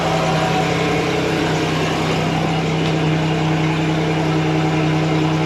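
The Commander's engine idles through a newly installed muffler exhaust, a steady, close, even drone with a constant low hum that holds unchanged throughout, with no talking.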